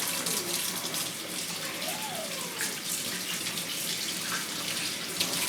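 Tap water runs in a steady, even gush while someone washes their hands outdoors in a garden, close and continuous, with no one speaking over it.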